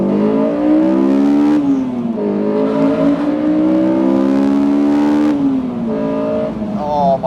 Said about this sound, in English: Oh my word, it is amazing how good this engine sounds.